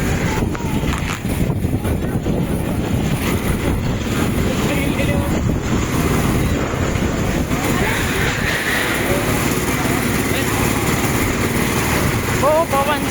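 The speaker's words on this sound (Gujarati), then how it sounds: "બહુ પવન છે." Heavy, constant wind buffeting the microphone with a low roar throughout, while people talk over it outdoors.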